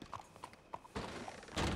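Horse hooves clip-clop steadily and softly in a western video game, a quiet repeating rhythm of hoof strikes that grows a little louder toward the end.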